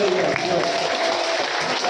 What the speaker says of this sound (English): Let's give them all a clap.